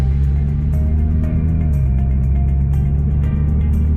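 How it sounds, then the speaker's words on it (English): A car running a COBB tune drives under normal throttle, its engine droning steadily up close, with a dip in pitch partway through as it shifts up a gear. "So just drive normal and let it just shift through each gear."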